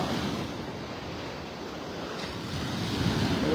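Ocean surf washing in steadily on Vanderbilt Beach in North Naples, Florida, a continuous broadband roar of breaking waves with wind buffeting the microphone, swelling slightly louder toward the end, with no voices.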